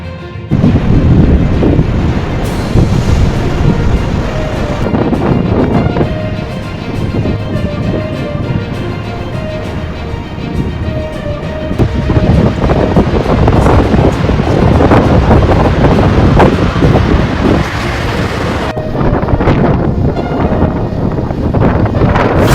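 Heavy surf roars continuously while strong Storm Darragh gusts buffet the microphone at Biarritz, France, a loud, dense rush of wind and crashing waves with no speech.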